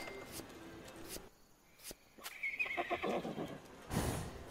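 A horse in the Estate Agent Simulator video game lets out a clear whinny partway through, standing alone with no talk over it, followed by a louder rustling burst near the end.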